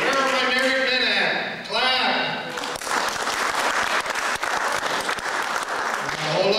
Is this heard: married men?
yes